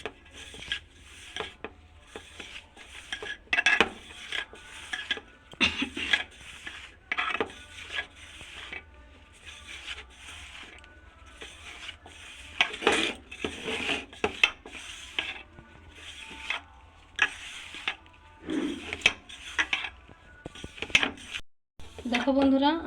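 Mughlai dough being kneaded and mixed with white oil in a bowl, a run of soft rubbing, rasping and squelching strokes in uneven bursts, close and fairly steady throughout, with a few sharper knocks near the end.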